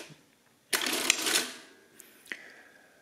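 An Addo-X 341 mechanical adding machine gives a quick burst of rattling, clattering print mechanism, followed by a few lighter clicks and a short clack against a quiet room.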